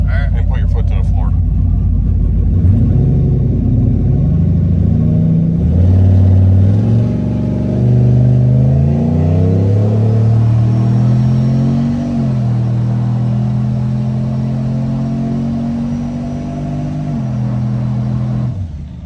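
A GMC truck with an 88mm turbo launches at full throttle, the engine roaring loudly and close as the revs climb and shift in stepped pitch, with the heavy sound staying strong until the end.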